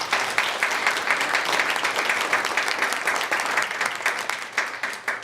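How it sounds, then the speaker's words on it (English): Steady, dense applause from an audience at a mayoral campaign event fills the room for a few seconds, many hands clapping at once without pause. "Have a round of applause."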